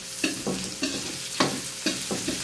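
Garlic and onion sauté in hot cooking oil for an Ilocano buridibod dish, with a steady sizzle and four or five rhythmic scraping strokes of a spatula against the pan, close and moderately loud.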